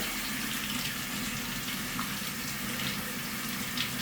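A laundry sink tap runs in a steady, continuous hiss of slow-flowing water during a one-minute flow test, with no pauses or voices.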